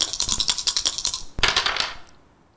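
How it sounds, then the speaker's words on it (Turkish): A spinning die on a Turkish word game show rattles in a quick run of clicking ticks, pauses briefly, then clatters again and trails off, close and loud with no talking. "Zarı döndüreceğiz."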